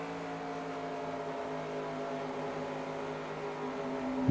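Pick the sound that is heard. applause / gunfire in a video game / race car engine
race car engine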